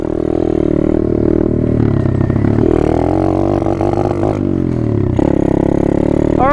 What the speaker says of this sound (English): The exhaust is so loud. Way louder than my stock Raptor.